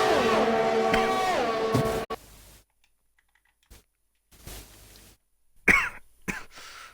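A few short, sharp coughs during an Xbox racing game's Brazilian Grand Prix, following a stretch of clicking keyboard taps and then near silence, with bursts of noise between.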